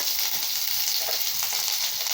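Sliced onion added to hot oil already crackling with mustard seeds and lentils gives a dense, continuous frying hiss, close and fairly loud, heard without speech.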